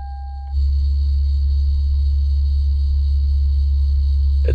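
An ABS module pump on a 1999 Lexus GS400 pressurizing after the key turns on, a loud steady motor hum starting abruptly after a brief tone and droning on without pause.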